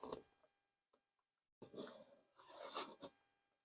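A fast paper cutting machine slicing through paper gives a few quiet taps and a pause, then a close, raspy, scraping cut lasting about two seconds.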